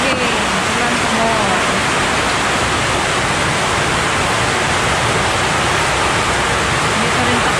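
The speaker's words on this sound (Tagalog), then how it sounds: "Lakas pa rin ang ulan dito guys, oh." Heavy rain pours steadily during a storm in a rural province, a loud dense hiss that fills the whole stretch with no letup, faint voice traces buried beneath it.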